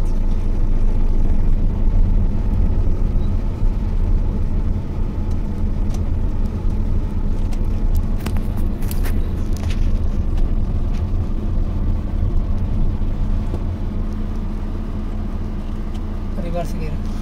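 Steady car engine hum and road noise as a learner driver moves off in first gear, a continuous loud low drone with a few brief clicks partway through; a person talks over it at times.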